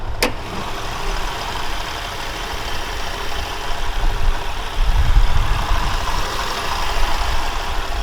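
A 2005 Acura TL with a V6 engine idles steadily nearby, a continuous low rumble with a brief click at the start and a slight swell midway, and no voices.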